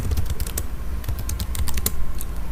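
Rapid, irregular keystrokes on a computer keyboard, typed close up while entering a text prompt into an AI tool, with no voices.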